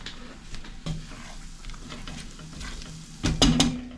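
Creamy Alfredo sauce seasoned with salt and pepper bubbling in a pan while being stirred, with a steady soft sizzle and a louder burst of scraping and clinking near the end.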